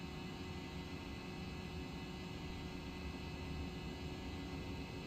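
Steady broadband roar of an airplane engine in a video game, an even, unbroken drone at moderate level with no voices.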